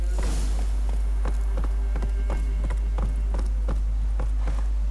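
Horse hooves clip-clop in The Witcher 3 in a steady walking rhythm of distinct, evenly spaced hoof strikes over a constant low game hum.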